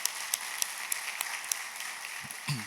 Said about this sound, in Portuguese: só uma salva de palmas para esses pais de primeira viagem aí